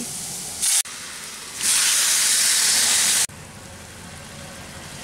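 Bottle gourd greens with their broth hit a hot tempering pan and set off a loud, steady, hissing sizzle that swells and holds for a couple of seconds, then drops back to a lower hiss, with no voices.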